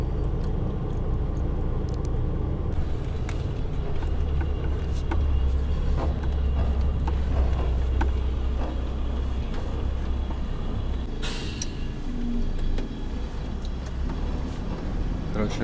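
A dump truck's diesel engine revs while the truck reverses, giving a steady, loud low rumble that lasts the whole time, with a voice talking over it.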